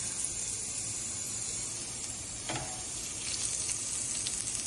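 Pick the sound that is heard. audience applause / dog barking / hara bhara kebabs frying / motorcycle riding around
hara bhara kebabs frying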